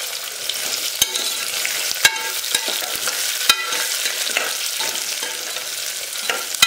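Garlic and green chilies frying in a pan for tomato rice, a bright, close sizzle broken by several sharp scraping strokes of a spoon, steady and fairly loud, with no voices.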